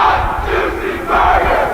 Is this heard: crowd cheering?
yes